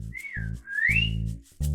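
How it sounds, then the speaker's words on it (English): A person whistling a short, bright, sliding tune, rising and falling in pitch with brief breaks, close and clear, with low background sounds between phrases. "Ooh, whistling. You got a great whistle."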